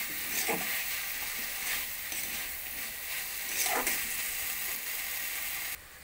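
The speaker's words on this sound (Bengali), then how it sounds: "এরপর দিয়ে দেবো ভেজে রাখা আলুটা। দিয়ে মশলার সঙ্গে ভালো করে কষিয়ে নেব।" Fried potatoes sizzle softly with spice masala in a pan for ghugni, with occasional stirring scrapes; the frying is fairly faint and steady, with no talking.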